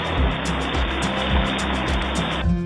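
Water pours steadily into a pot of mango fish curry holding fish flakes, spices, peeled mangoes and salt, a loud continuous splashing rush that stops abruptly near the end.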